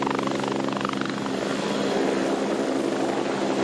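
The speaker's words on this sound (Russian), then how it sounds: "Это презентационный полет вертолета." An Ansat helicopter on a presentation flight gives a steady, loud rotor thrum and turbine whine, continuous and fairly close throughout, with no other sounds standing out.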